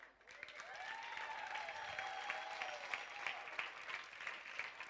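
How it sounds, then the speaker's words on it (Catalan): Audience applause at a Catalan stand-up comedy contest final, steady close clapping from a crowd running for several seconds, with a faint tonal sound drifting underneath. "Senyors i senyores, sisplau, un aplaudiment."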